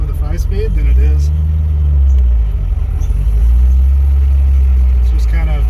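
An LS V8-swapped Nissan 240SX with a T56 manual gearbox drives along, its engine a steady low rumble that swells and eases slightly, heard from inside the car with a voice speaking over it.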